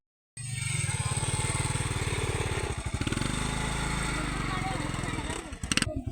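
A motorcycle engine runs close and loud, a steady throbbing putter that holds for several seconds before a burst of clatter near the end, with voices faintly mixed in.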